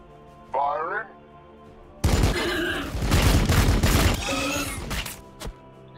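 A Warhammer 40,000: Battlesector squad opens fire in a heavy burst of rapid gunshots that crackles and booms for about three seconds, with a brief voice heard before and during the volley.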